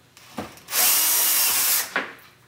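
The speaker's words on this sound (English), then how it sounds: "Let's take out the screws." A power drill backs screws out of a GE glass-top electric range stove: one loud, steady whirring burst of a bit more than a second, close up, with brief handling noises just before and after.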